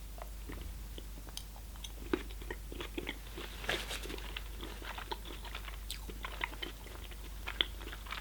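A filled chocolate with a yellow, banana-coloured filling is chewed close to the microphone, with steady soft crunching and wet mastication clicks continuing throughout, alone and quiet.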